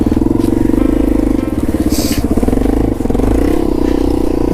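A Yamaha TW200 motorcycle spins a donut in snow, its engine close and loud with a steady pulsing drone, the revs rising and wavering as the tyre slips, and a brief hiss of flung snow partway through.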